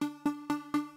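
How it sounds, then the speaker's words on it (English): Short, plucky synth notes made with Ableton Live's Wavetable instrument repeat four times in an even rhythm, each a quick bright attack with a fading tonal tail, fairly quiet and alone. "I wanted to make a little short sound with wavetable."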